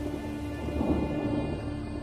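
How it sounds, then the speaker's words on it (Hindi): Steady, dense rain pours through a rainy-season thunderstorm in Kakadu, with low thunder rumbling faintly underneath a constant hiss; no voices are present. "बरसात आ चुकी है। काकाडू के तूफानों की गिनती दुनिया के सबसे बड़े तूफानों में होती है।"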